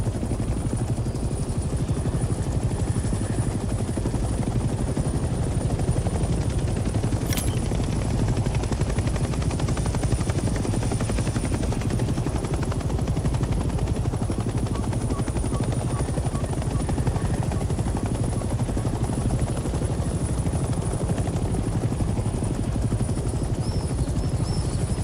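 A helicopter in the video game Hell Let Loose drones continuously with a loud, dense rotor thrum and engine whine, steady and close for the whole stretch, with faint distant gunfire underneath.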